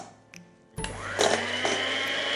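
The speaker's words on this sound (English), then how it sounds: "take your hand mixer and mix for about 5 minutes until the mixture is stiff and whipped cream-like consistency" An electric hand mixer starts up with a click and settles into a steady whirring drone as it whips cream for a no-bake pumpkin cheesecake, close and continuous.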